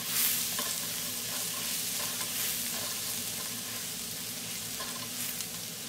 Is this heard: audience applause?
no